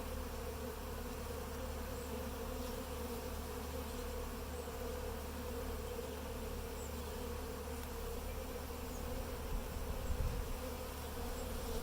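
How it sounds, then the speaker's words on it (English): Honeybees buzz around a Flow Hive, a continuous, even drone of many wings that fills the whole stretch at a low, steady level, with no voices. "I always have a lot of bees swarming around."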